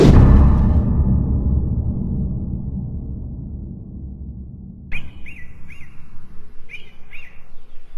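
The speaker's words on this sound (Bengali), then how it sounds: "পাখির কিচিরমিচিরে ঘুম ভাঙল।" Cartoon-style morning birds chirp in a few short, clear bursts near the end, following a fading low rumble, with no voices.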